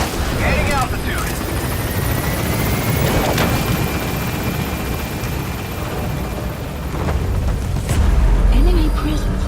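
The B-Quad helicopter in Metal Gear Solid V gaining altitude from a landing zone: a steady, loud rotor drone with faint whines, punctuated by a low thud near the end.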